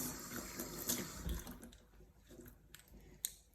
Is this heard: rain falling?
no